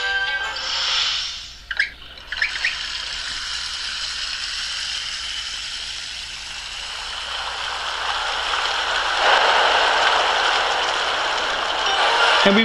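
Water flows back into a dried-up oasis in the video game Paper Mario: Sticker Star, a steady rushing stream that swells louder toward the end after a brief chime-like opening.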